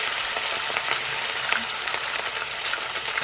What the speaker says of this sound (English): I'm gonna put in my fish because the oil is hot and ready